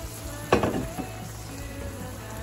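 Maple syrup, sugar and lemon juice for a caramelized onion chutney cook in a pot, with a short burst of sizzling and stirring near the start, then a quieter steady bubbling hiss.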